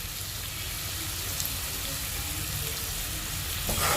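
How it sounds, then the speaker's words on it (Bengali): Badi curry ingredients fry with salt and turmeric in a pan, making a continuous close sizzle that swells into a louder burst near the end. "এবার সবগুলো জিনিস একটু হালকা করে ভেজে নেবে।"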